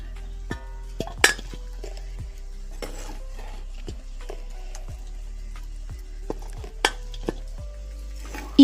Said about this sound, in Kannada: ಇದನ್ನೀಗ ಇನ್ನೊಂದು ಪಾತ್ರೆಗೆ ತೆಗಿತಾ ಇದ್ದೇನೆ.